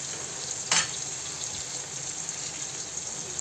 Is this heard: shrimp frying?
yes